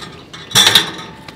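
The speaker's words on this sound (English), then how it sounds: "Put the basket back in." A metal charcoal basket is set back into a grill firebox with a brief, sharp metallic clank and rattle, close and loud, followed by a faint tap.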